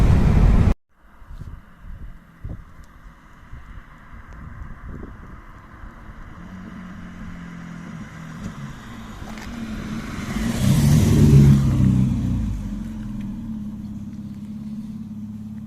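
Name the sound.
car engine driving and accelerating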